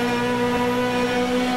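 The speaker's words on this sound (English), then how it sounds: "by far the best sounding car in the GT3 pack" Ferrari GT3 race car engine in Automobilista, a steady, loud sustained tone that holds at a constant pitch with rich stacked harmonics, alone with no voices.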